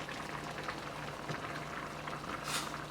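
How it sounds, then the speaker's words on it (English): Fish stew simmering in its sauce over lowered heat, a soft continuous bubbling hiss with faint popping, steady and close, with no talking over it. "now you start to lower the fire down and the fish now gets to simmer in the sauce"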